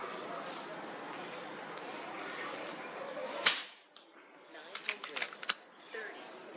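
An FX Impact M3 air rifle firing a .25 caliber JSB pellet outdoors in high wind: steady wind roar, then one sharp crack, followed by a cluster of faint clicks and ticks as the wind drops.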